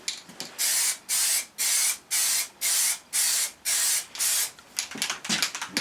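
An aerosol can of Plastidip lays a light dust coat on a bare, unprimed test piece in a garage: a run of evenly spaced hissing bursts, each under a second, close and loud, ending in quicker short puffs.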